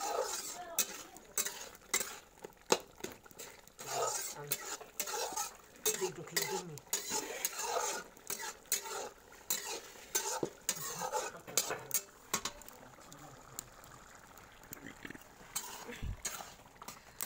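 Fish head curry being stirred in a pot, a stream of scraping and clattering spoon strokes against the pot over a soft bubbling sizzle, close and irregular, with no talk.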